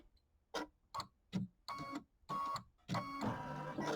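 An embroidery machine stitches a trim line on fabric in short mechanical bursts, starting as separate clattering pulses and settling into a steadier, louder whirring run of stitches.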